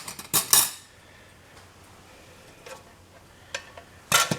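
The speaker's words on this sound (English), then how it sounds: "There, that should spread the oil around pretty good." Oil being spread around a frying pan, with a few sharp metallic clatters and scrapes of a utensil against the pan at the start and end, separated by a quiet stretch, close and fairly loud.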